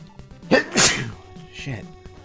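A single sharp sneeze, loud and close, with a short breathy intake just before it and faint talk afterward.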